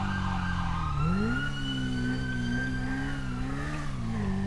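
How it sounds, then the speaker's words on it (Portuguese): In the GTA 5 video game, an emergency vehicle siren wails continuously, its pitch sweeping up and settling into a steady, loud, nearby tone with no talking. "Tô vendo um sirene do caralho aqui que não para."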